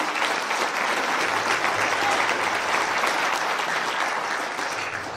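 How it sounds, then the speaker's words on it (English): A ceremony crowd at a Marine Corps birthday ball gives sailors a sustained round of applause, dense and even throughout, easing off slightly at the close. "Let's give them a round of applause."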